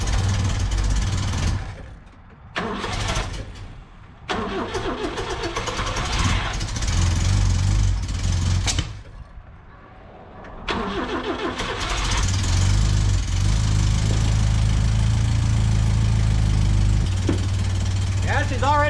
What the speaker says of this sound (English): she's already idling